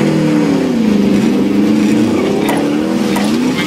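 Car engine from a driving sequence in the video game Call of Duty Warzone, a steady loud revving drone with shifting pitch throughout, plus brief faint clicks near the end.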